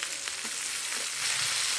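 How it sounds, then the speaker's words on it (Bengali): Browned onion, spring onion and chopped tomato with cumin frying in a pan, a short steady sizzle heard close by, with light stirring and no voices. "এবার এগুলিকে কিছুক্ষণ খুব ভালোভাবে ভেজে নিতে হবে"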